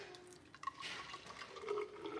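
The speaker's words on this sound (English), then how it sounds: "So now I'm gonna pour it into my bottle." Fresh carrot, pineapple, apple and ginger juice poured into a bottle, a faint, short liquid trickle and gurgle with a rising filling tone, heard alone.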